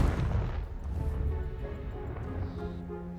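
A Confringo blasting spell explosion in Hogwarts Legacy, a deep booming burst at the start that rumbles and slowly decays into a quieter wash of low sound.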